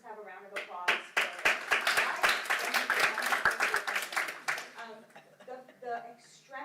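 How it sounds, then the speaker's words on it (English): Conference audience gives a short burst of clapping, fairly close and moderately loud, fading after a few seconds while a speaker's voice carries over it. "So let's just have a round of applause for"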